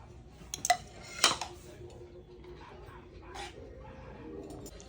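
Metal clatter and scraping of a spatula against a pan while chow mein with torn green chillies is stirred at home, a few sharp clinks standing out, with a dog whimpering and yipping faintly in the background.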